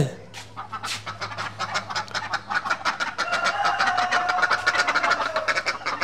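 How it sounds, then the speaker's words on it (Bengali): A flock of ducks quacks and honks in a busy, overlapping chorus close by, growing louder, with a low engine hum underneath. "আমাদের হাঁসগুলো চলে আসছে"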